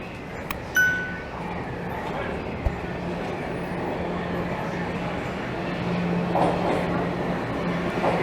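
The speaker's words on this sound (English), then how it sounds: "another train is about to roll in." A Toronto subway train rumbles into the station, its low steady roar building gradually with a few clanks and a faint squeal near the end.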